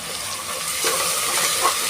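Onions and tomatoes with salt sautéing in a pan for south Indian chicken biryani, a steady close sizzle and frying hiss with light stirring scrapes.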